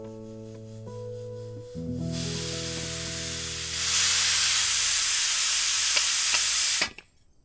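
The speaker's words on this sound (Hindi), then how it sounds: "शुक्र है भाप निकल गई" Steam hisses out in a steady, broad rush that starts after a low tonal hum, swells louder midway and then cuts off abruptly.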